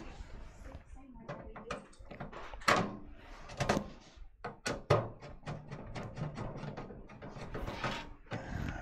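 Screwdriver tightening screws into a Kolink Phalanx V2 ATX PC case; close ratcheting clicks and metallic scraping in uneven bursts, with a person talking throughout.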